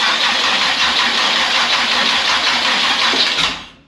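A Z28 drag car's engine fires and runs with a loud, even, rough roar up close, then fades away at the end.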